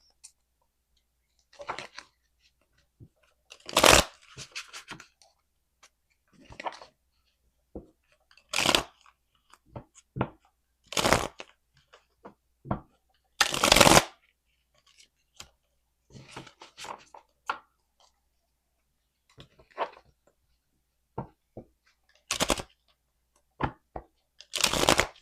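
Tarot cards riffled and shuffled in short bursts with pauses between, close up, each burst a quick papery flutter; no one speaks.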